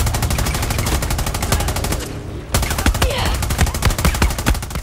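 Rapid automatic gunfire in the video game Far Cry 6, with dense continuous bursts that break off briefly and then resume, loud and close, while a voice speaks over it.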